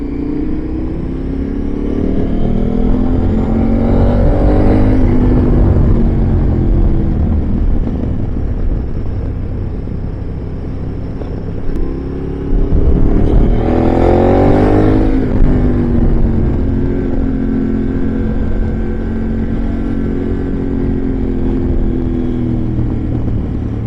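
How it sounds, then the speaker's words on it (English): A motorbike on a New Year's Day road ride, heard close and loud as a continuous engine drone with two rising revs as it accelerates through the gears, plus steady wind and road roar throughout. "I'd much rather be on the motorbike."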